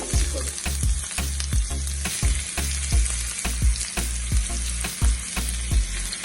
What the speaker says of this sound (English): I'm gonna sweat my vegetables down